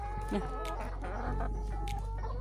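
Chickens, including an all-white hen among about forty birds, cluck softly and intermittently over a steady low farmyard hum, with a few short higher calls scattered through.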